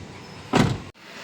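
A car door thumps shut once, a brief loud burst of movement followed by a sharp cutoff into quiet cabin hum, as people climb into the car.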